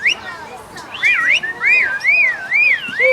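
A pet bird imitates a car alarm, whistling loud warbling up-and-down sirens in several repeated sweeps, close to the microphone, with rustling in the background.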